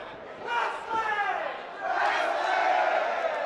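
A wrestling crowd chants in unison throughout the live match, a loud, continuous mass of voices that swells and grows stronger partway through.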